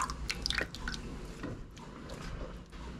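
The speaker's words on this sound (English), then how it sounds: "Now we're going to stir in the milk. About a cup of cream. Real slow." Cream poured slowly into a roux for mac and cheese, giving soft liquid drips and wet squishing sounds up close that settle into a quieter, steady trickle.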